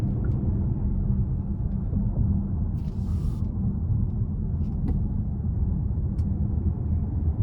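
A 2024 Hyundai Santa Fe Limited accelerates onto the interstate, heard from inside the cabin as a steady low engine and road rumble with no rise or drop over the stretch, and no one talking.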